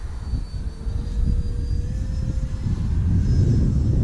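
An E-flite Habu RC jet on a 4S 5000 battery flies overhead in wind, its electric ducted-fan whine steady and whistling, with wind buffeting strongly underneath.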